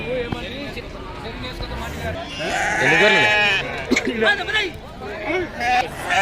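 Sheep bleat repeatedly amid a busy livestock market in Pebbair, with overlapping calls from several animals and a crowd murmuring in the background.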